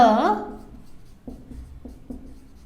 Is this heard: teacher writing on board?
yes